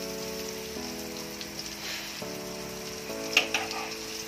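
Butter and pork fat melt and sizzle in a non-stick pan for pork sisig, a soft steady crackle with a sustained tonal hum and a brief sharper clatter near the end.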